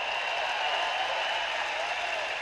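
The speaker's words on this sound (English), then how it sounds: "So give my partner Shubh a round of applause." An audience claps for the speaker's partner Shubh at a motivational success talk on stage, a steady wash of applause sustained throughout at even loudness.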